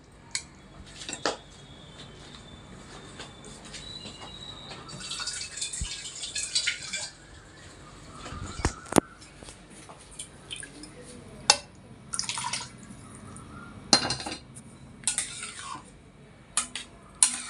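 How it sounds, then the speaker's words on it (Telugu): Pav bhaji being mixed in a pan and water poured in: sparse clinks and scrapes of a utensil against the pan with drips and splashes, close but quiet, with bursts of louder clatter. "బాగా కలపండి మొత్తం కలిపి కొంచెం వాటర్ పోద్దాం"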